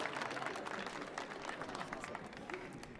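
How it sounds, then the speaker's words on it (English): An audience at an improv show applauds performer Zachy, a steady, faint wash of clapping lasting throughout with crowd noise and some talk beneath. "Let's give Zachy a big round of applause!"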